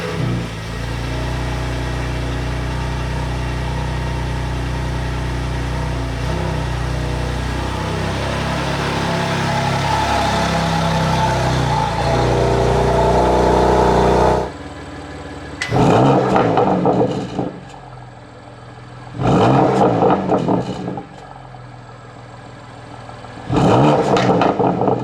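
A 2020 BMW M2 Competition engine idles with a steady, droning hum, then falls quiet, followed by three sharp revs spaced a few seconds apart, each rising and dropping quickly.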